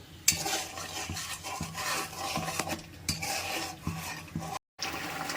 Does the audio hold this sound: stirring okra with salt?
yes